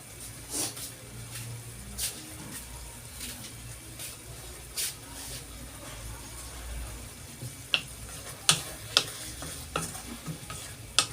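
Tomatoes soften in a pan, sautéing with a faint, steady sizzle. Sharp utensil clicks and scrapes of stirring come at irregular moments, louder near the end.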